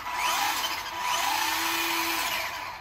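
A brushed motor in an M16 RC race truck spins up with the 4x4 wheels in the air, giving a steady whining drone that rises twice, with the second burst held longer.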